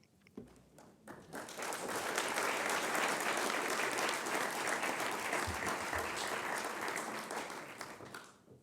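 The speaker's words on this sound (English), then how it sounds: "how about a round of applause for our speaker, but you took care of that." An audience at a press club luncheon breaks into applause for the speaker, a broad, even roar of many hands that builds within a second or two, holds steady, then tapers off.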